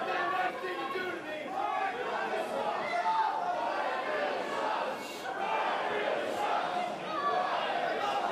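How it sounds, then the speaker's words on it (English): A live wrestling crowd roars and cheers steadily at the start of a match, with commentators talking over the dense, sustained noise. "listen to this crowd already"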